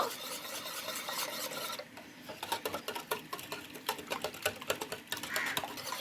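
Eggs and milk are beaten hard in a bowl, a fast rhythmic series of close scraping taps that pauses briefly, then resumes in sharp, regular strokes.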